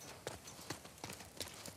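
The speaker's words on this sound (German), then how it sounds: "das selbst mitlaufende Pferdchen ist auf jeden Fall auch sehr praktisch" Horse hooves clip-clop in The Last of Us Part II, a riderless horse trotting alongside, with several soft, evenly spaced hoof strikes at moderate distance over a low ambient background.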